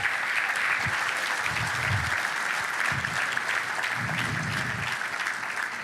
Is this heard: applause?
yes